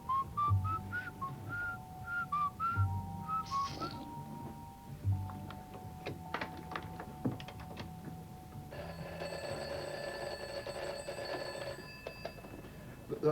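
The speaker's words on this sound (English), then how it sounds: "Just came through with a long, low whistle like before." A long, low whistle in a BBC radio drama, repeated as a series of rising and falling tones over a hum, followed by a steady ringing tone; loud and close, with no talk over it.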